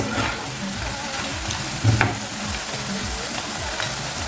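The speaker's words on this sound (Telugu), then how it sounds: "దగ్గరే ఉండి చక్కగా కలుపుతూ ఇట్లా వేయించుకోండి" Bitter gourd pieces, seeds included, fry crisp over a low-to-medium flame while being stirred: a dense, steady close sizzle with rhythmic scraping and one louder clatter midway, no voices.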